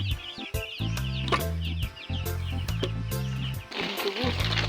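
Broiler chickens in a small farm flock of about 30 birds cluck and chatter close by, with repeated short rhythmic calls overlapping continuously and no talking.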